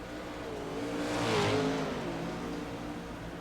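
410 sprint race cars roar past on the Williams Grove track, engines swelling to a loud peak about midway as they pass close by, then fading slightly while still droning steadily.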